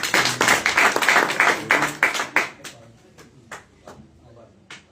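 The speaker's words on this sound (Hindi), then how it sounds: "इनके लिए जोरदार ताली बजाएं।" Audience clapping to congratulate a man on the birth of his son, a burst of scattered handclaps that thins out into a few separate claps and fades.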